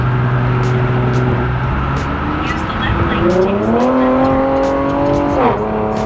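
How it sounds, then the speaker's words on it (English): An Infiniti G37 sedan with Flowmaster Flow FX resonators revs with a steady exhaust drone, then its pitch climbs and drops sharply as it downshifts, loud and close throughout. "I'll try to do a downshift."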